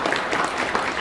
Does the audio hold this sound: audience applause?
yes